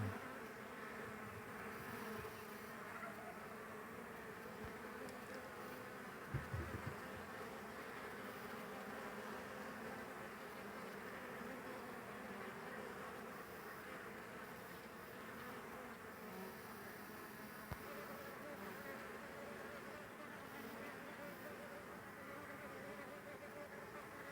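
Steady buzzing of many honeybee drones in flight returning to the hive fills the whole stretch, close and continuous, with a few brief low knocks.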